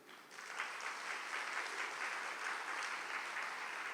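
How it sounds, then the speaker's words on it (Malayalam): A church audience claps together in sustained, even applause, a dense steady patter that holds for several seconds with no talking over it. "ഒന്ന് കൈയുയർത്തി കൈയടിക്കുക"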